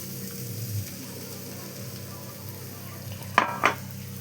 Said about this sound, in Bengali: এটাকে এবারে নাড়িয়ে সুজির সঙ্গে সবজিটাকে মিশিয়ে নেব